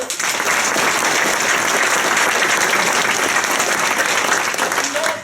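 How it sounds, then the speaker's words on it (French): Dense, continuous applause from a theatre audience greeting cast members of a troupe, loud and even throughout with no voice over it. "On va applaudir aujourd'hui"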